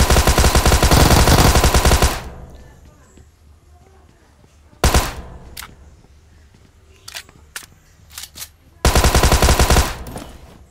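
Bursts of automatic gunfire in the BGMI battle royale game, loud rapid volleys at the start, middle and end, with a few isolated single shots between them over quieter background.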